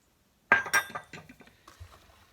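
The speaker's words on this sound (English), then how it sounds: "Now we're going to add 1/3, well, a heaping 1/3 of chopped pecans that I've toasted in my oven" Toasted chopped pecans tipped into a glass bowl of pie filling, a short burst of light clinks and rattles as the nuts drop, then softer scattered taps fading away, close and fairly quiet.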